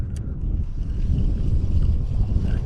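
Strong wind at a high-altitude mountain lake, a steady low rumble buffeting the microphone throughout, with no voices.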